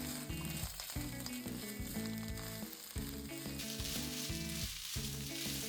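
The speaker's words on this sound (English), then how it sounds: "I stir fry them until they become shiny and tender." Vegetables for a vegan side dish stir-fried in a pan until shiny and tender, with a continuous close sizzle and repeated scraping and clattering of the utensil, with no voices.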